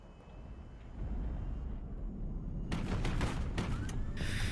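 Rapid bursts of gunfire from a ship's guns in the HighFleet game, shooting to intercept incoming missiles; dense crackling volleys rise midway over a steady low rumble and keep going to the end.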